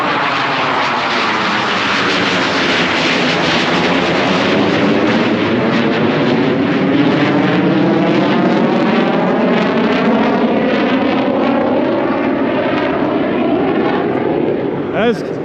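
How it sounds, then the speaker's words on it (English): Loud jet aircraft passing low directly overhead, a roaring engine rush that holds steady for many seconds with sweeping, shifting tones, close and powerful, fading only at the very end. "Jet's back."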